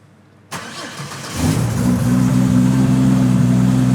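A Holden Cresta race car's engine cranks briefly and then catches, settling into a loud, steady, rumbling idle close by, with no talk over it.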